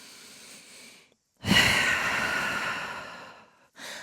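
During downward dog in a vinyasa yoga moon salutation, a person takes a deep audible breath, a short exhale followed by a long loud airy inhale-exhale and another breath beginning.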